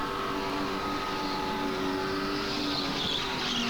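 A supercharged race car drives a flying lap, its engine a steady, loud, close droning whine that holds on without a break.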